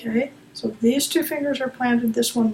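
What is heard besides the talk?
No distinct noise like a dog, phone or traffic.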